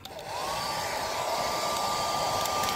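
Heat gun blowing hot air onto vinyl wrap on a rusty rear bumper, a steady whooshing blower hum that rises quickly after a brief start and holds loud and constant, no voices.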